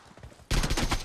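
Thompson submachine gun firing in PUBG Mobile, a sudden loud burst of rapid automatic shots cutting in after a quieter stretch of faint gunfire.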